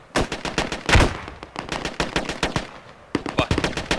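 Sustained machine gun fire in the military shooter game Squad, a dense run of sharp, loud bursts with brief gaps, close and continuous.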